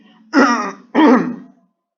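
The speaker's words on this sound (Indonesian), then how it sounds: "sambil batuk" Two short, close coughs or throat-clearing bursts, one after the other, with silence before and after.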